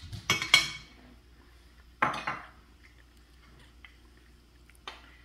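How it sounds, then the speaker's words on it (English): A spoon stirs cooked rice into cattail soup in a pot, giving a few close metallic clinks and scrapes in short bursts, with quiet gaps between them and no talk. "we're just going to stir it around to help blend these flavors together"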